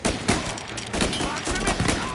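Rapid gunfire in Mafia Definitive Edition during a chase, loud bursts of repeated shots crackling in quick succession across the whole moment.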